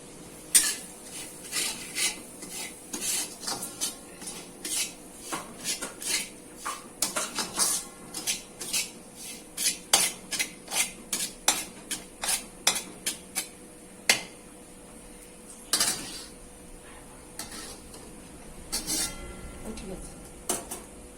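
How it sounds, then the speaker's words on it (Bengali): Semolina being fried in ghee in a wok, stirred with repeated scraping and clinking strokes of a spatula against the pan in an uneven rhythm. A faint background sizzle sits under the strokes. "প্রথমে কড়াতে কিছুটা পরিমাণ ঘি দিয়ে দিলাম ঘি দিয়ে এর মধ্যে প্রথমে একটু সুজি দেব সুজিটাকে একটু ভেজে নিতে হবে ঘিয়ে"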